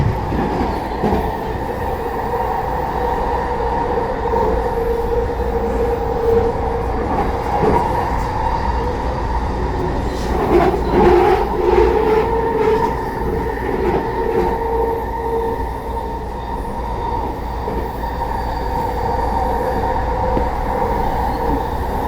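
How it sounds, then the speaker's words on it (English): Freight train out of Queensboro passing under a pedestrian overpass in Edmonds: a loud, continuous rolling rumble of rail cars with clattering wheels and brief squeals, steady for the whole stretch. "Train out of Queensboro."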